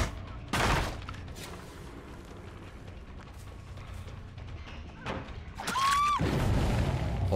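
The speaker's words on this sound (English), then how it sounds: "Big explosions" Booming explosions in the game Dead by Daylight: a sharp blast early, a few softer distant thuds, then a louder burst with a rising whine near the end, over a quiet background.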